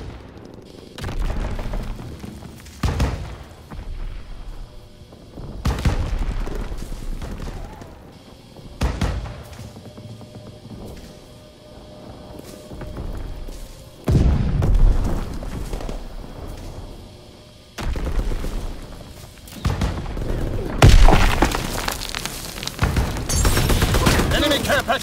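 Heavy World War II combat in Call of Duty: WWII, with loud bursts of gunfire and booming explosions arriving in irregular waves, building to an intense barrage near the end.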